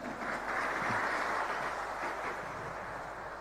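Broad, steady applause from a large audience at an Islamic religious lecture, a dense even roar of clapping holding at one level for a few seconds with no voice over it.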